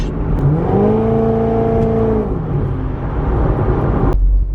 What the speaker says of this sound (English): we are starting off here in the Corvette